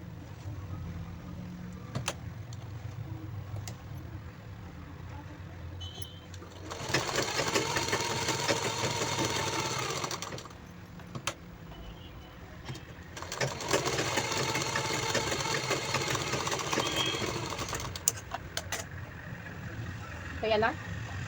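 An electric sewing machine stitches a fabric seam for a peplum top and palazzo pants in two long, steady whirring bursts, with a quieter gap between them where a voice and faint background sounds carry on.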